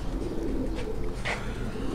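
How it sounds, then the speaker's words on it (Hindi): A breeding pigeon cooing at close range in a Karachi pigeon keeper's home, soft low throaty coos repeating under a steady background hum, with a couple of faint higher chirps. "ये खालिद भाई जो कबूतर आपको दिखा रहे हैं"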